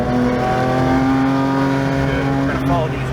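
Engine of a Lamborghini Huracan or Porsche GT3 on a track, held at a steady loud drone with light throttle through a turn, with a voice talking over it.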